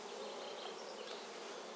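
Honeybees buzzing around an opened Warré beehive make a dense, steady, close-up drone of many wings with no pauses.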